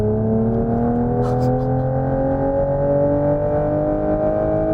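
A Genesis GV60 Magma in sprint mode accelerates hard, its synthetic drive tone rising steadily in pitch like a climbing whine. The sound is loud, smooth and continuous, with a brief faint voice partway through.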